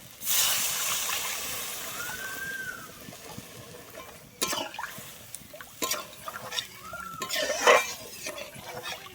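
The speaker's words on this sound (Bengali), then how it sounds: "এরপরে আমি এখানে দিয়ে দিচ্ছি জল" Water poured into frying spice masala in a cooking pan, a sharp hissing burst followed by bubbling, sizzling and scattered clinks of a utensil, close by without talk.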